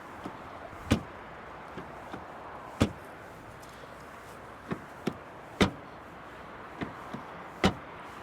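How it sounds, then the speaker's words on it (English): The doors of a 2024 Mercedes GLB facelift are shut repeatedly, giving four solid, sharp thuds spaced about two seconds apart, each with a quieter click of the latch between them, in a quiet setting. "And also the door closing sound,"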